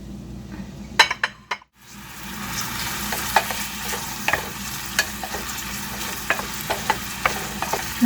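Onion frying in oil for nasi lemak, a steady sizzle with sharp utensil clinks and scrapes against the pan recurring throughout, briefly dropping out near the start.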